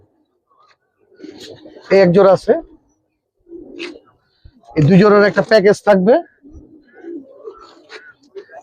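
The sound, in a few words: gendra (tambi) pigeons cooing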